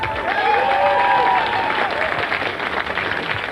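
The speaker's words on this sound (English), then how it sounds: "And a round of applause, Mr." Audience applause at a stand-up comedy show, with a crowd clapping loudly and continuously for a comedian and some faint voice mixed in early on.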